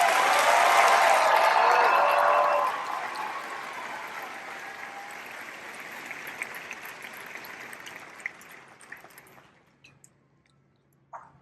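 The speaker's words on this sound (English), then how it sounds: "Let's all give our Gator MTIs an appreciative round of applause." An assembled audience at an Air Force coin ceremony applauds the military training instructors: loud, full crowd clapping that peaks early, then gradually thins and fades away into near silence.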